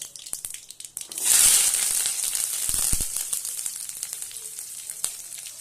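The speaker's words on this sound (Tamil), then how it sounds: "இப்போது சின்ன வெங்காயம், பச்சை மிளகா, கருவேப்பிலை சேர்த்திக்கலாம்" Shallots, green chillies and curry leaves drop into hot oil that has already popped mustard seeds, bursting into a loud, steady sizzle that holds at close range to the end, with no one talking.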